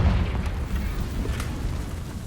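A Confringo blasting spell goes off in Hogwarts Legacy as a deep, rumbling boom that fills the low end and stays loud and steady, with faint crackles on top and no voices.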